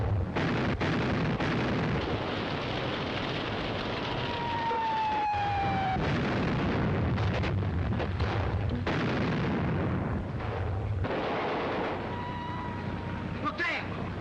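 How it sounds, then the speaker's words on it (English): Battleship artillery shells burst in a 1938 film soundtrack as a dense, continuous roar of rumbling explosions. Faint whistling tones and scattered sharper blasts rise above the heavy bed of noise. "Battleships are opening up. We can't lie out here all night with the shells going places."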